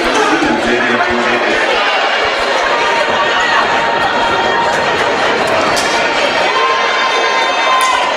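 A basketball game crowd roars and chants after a three-point play, with loud, continuous cheering and shouting filling the gym, some young voices among them.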